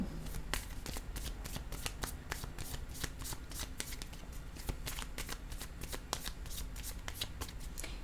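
Tarot cards are shuffled and dealt in a steady run of crisp riffling flicks and soft slaps, close and continuous, with no one speaking over them.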